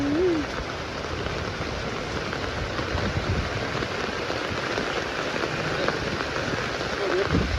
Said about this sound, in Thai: เพราะว่าฝนมันตกเนาะ